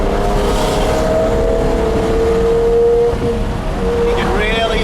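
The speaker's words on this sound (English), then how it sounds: "I wanted you to hear the motor, hear the exhaust tone." A 1986 Ferrari 412i with a V12 engine and a 5-speed manual, heard from inside with the windows wide open: a steady, smooth engine and exhaust drone while cruising, with a slight rise and settle in tone.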